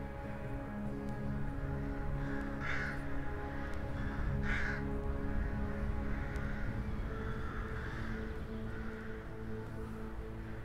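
A mixed flock of waterfowl, including geese, swans and coots, calls at a lakeside moor, with scattered harsh cries rising over a steady outdoor background.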